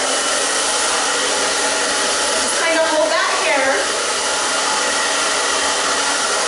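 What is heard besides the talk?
blow dryer blowing hair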